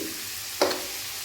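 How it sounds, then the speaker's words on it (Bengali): Eggplant slices go into very hot oil: a soft, steady sizzle swells into a sudden louder hiss midway, then settles back. The frying is close by, with no talking. "আর এই সাইডে বেগুন ভাজা করব আমি।"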